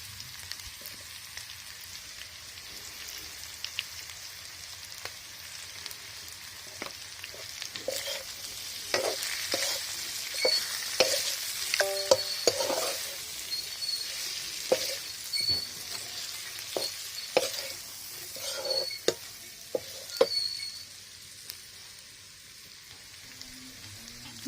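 Meat frying in hot oil for lai gahori as turmeric goes in, a steady close sizzle with scattered sharp spatters and stirring scrapes that grow busier midway, with no talk.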